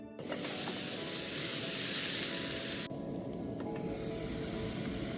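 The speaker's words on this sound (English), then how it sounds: "That's the old mushrooms and onions cooking away nicely." Mushrooms and onions sizzle in a multi-pan while cooking outdoors on a riverbank, a steady close hiss with no talk over it.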